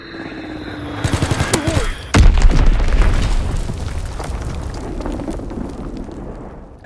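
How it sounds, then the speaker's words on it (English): Bombs from an enemy air strike in the World War II shooter Call of Duty: WWII, a loud sudden boom followed by a long rumbling roar of blasts and rapid gunfire that slowly fades. "Enemy bomb incoming."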